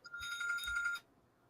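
A phone rings nearby with one short burst of bright, warbling electronic tones that lasts about a second and then stops. A faint room hush follows.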